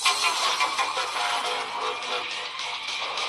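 A modified scooter engine runs hard at close range, with a dense, buzzing drone that holds steady throughout and shows only slight surges in level.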